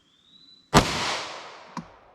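A single sharp 9mm shot of 124 grain jacketed hollow point fired from a 5-inch barrel into ballistic gel, loud and close with a ringing decay and a faint second pop just after.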